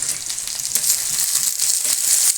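Brinjal chutney frying softly in a pan, an even, close hiss of sizzling that carries on steadily with faint stirring ticks underneath.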